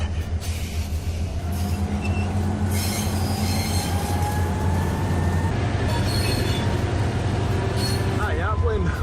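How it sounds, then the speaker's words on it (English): A steam train rolls steadily along the rails with a constant low rumble and intermittent high wheel squeals, with faint voices in the background. "There's train noises."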